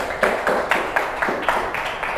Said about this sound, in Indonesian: Ayo tepuk tangan dulu anak-anak